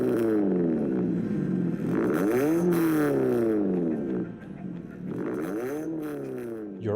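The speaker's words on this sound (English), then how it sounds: "It sounds pretty good with custom exhaust." A Toyota Voxy van with a 2-liter engine and custom exhaust revs repeatedly, the pitch rising and falling in close, loud sweeps with no talk.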